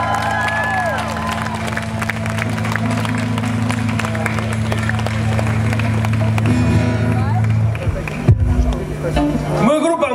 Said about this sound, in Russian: Так что все пусть аплодируем!